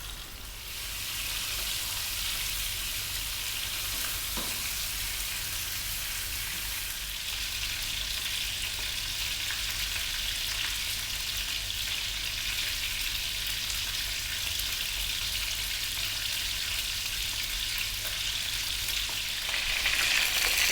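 Chicken pieces fry in hot oil in a pan, a loud, continuous, hissing sizzle close up that holds evenly for about twenty seconds, with no voices.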